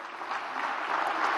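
Applause in Venezuela's National Assembly chamber, a dense, even patter of many hands clapping at moderate volume for about a second and a half with no voices on top.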